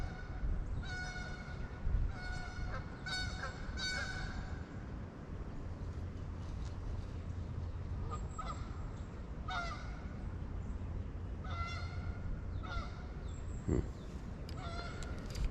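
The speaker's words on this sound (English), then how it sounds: "Here come the geese." Several geese at a pond honk repeatedly in loud, overlapping calls, some near and some farther off, over a steady low background rumble.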